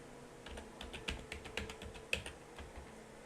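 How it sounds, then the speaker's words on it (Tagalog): Typing a password on a computer keyboard during setup of a Tenda F3 router's range extender mode: a quick run of light, close key clicks over a faint steady hum, with no voices. "so i-type na natin yung ating password."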